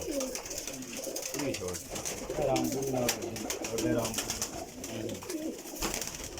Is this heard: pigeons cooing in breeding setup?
yes